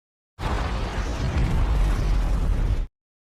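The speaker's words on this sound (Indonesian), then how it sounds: "Tak lama kilang pun meledak." A single loud, sustained explosive roar of an oil rig blowing up in the film Deepwater Horizon, lasting a couple of seconds, deep and rumbling, starting and stopping abruptly.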